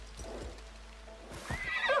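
A horse in the video game Assassin's Creed Shadows gives a short whinny with a few clip-clop hoof steps, close and fairly quiet, with no talk.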